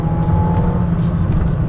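A Citroen Saxo Cup 1.6 16v car engine accelerates with a steady, loud low drone and a faint whine, heard from inside the car with no talking.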